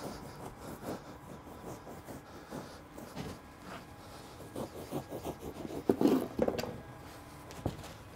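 A long knife saws through insulation board in long strokes, like cutting bread, giving a steady close rasping and rubbing with a louder scraping burst near the end; no one speaks.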